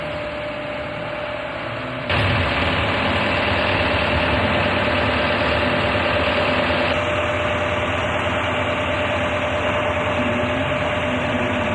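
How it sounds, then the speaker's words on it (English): A loader's engine runs at a museum roundhouse, idling low and then revving up after about two seconds into a loud, steady rumble that continues to the end. "the loader returns to the Roundhouse to retrieve the drive wheels"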